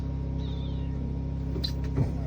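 A pet cat named Kit Kat gives a short, faint meow aboard a boat, a brief high call rising over steady low engine or appliance hum, with a second soft sound near the end.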